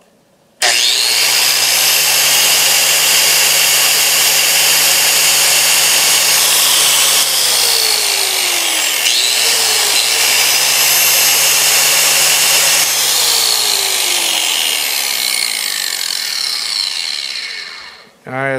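Angle grinder running off an All Powers R1500 portable power station, a loud steady high-pitched whine lasting about seventeen seconds with small pitch dips as the load shifts, then spinning down at the end.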